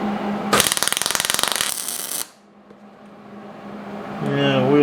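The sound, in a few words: welding on a bend test jig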